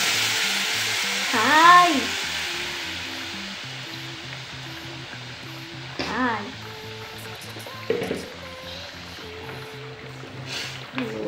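A blended biryani mixture fries and sizzles in a pot for beef biryani, a steady close hiss with a few stirring clatters, and brief talk over it.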